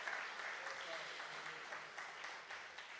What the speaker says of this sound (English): Let's give all of our sponsors another big round of applause.